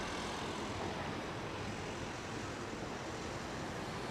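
Airplane landing on runway 27R at London Heathrow Airport, heard as a steady, faint, broad roar of jet engines with no distinct peaks.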